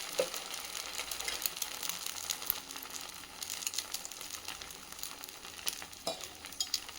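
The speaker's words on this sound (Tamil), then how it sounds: "நான் வந்து இன்றைக்கி கல் தோசை மாதிரி தான் ஊற்றுறேன்." Dosa batter poured as a thick kal dosa on a hot griddle, sizzling in a steady, close crackle with small pops throughout.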